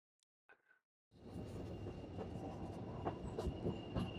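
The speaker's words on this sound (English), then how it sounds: "The train passes through the tunnels along the narrow gauge" White Pass narrow gauge train running through mountain tunnels above the Skagway River, a sudden rise into a continuous rumbling roar with rattling wheels and a faint steady squeal, after brief near-silence.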